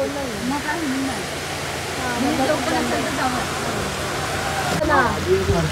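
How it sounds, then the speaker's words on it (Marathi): Nhani waterfall pouring steadily, a broad continuous rushing wash of falling water heard nearby, with people speaking over it throughout. "सो हा आहे न्हाणी वॉटरफॉल"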